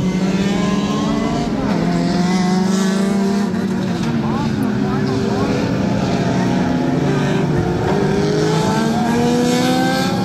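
Race cars in the closing lap of an amateur front-wheel-drive four-cylinder race, engines roaring loud and close with shifting pitch as they pass, under a steady crowd-like wash of noise.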